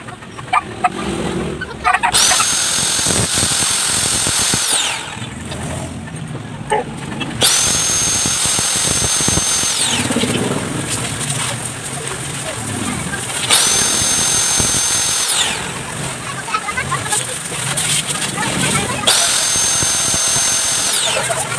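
A Honda Wave 125 piston ring is ground on a power tool to set the ring gap, in loud whining bursts separated by short pauses, with chickens clucking in the background.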